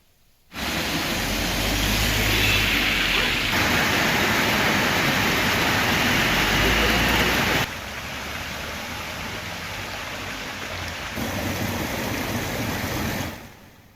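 Summer rain pours over Ooty in the Nilgiris as a dense, steady hiss that holds for several seconds, eases to a softer patter, then swells again before stopping abruptly.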